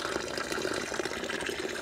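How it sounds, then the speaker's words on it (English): Coolant flows steadily out of a camper van heater into a bucket once the cap comes off, making a continuous close pouring, splashing liquid sound with no talking over it. "as soon as I take the cap off, it starts to flow"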